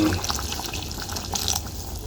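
Steady pouring water into a pan of cooking tomatoes, a continuous wet splashing stream with small drips, moderately close and fairly quiet, no voices.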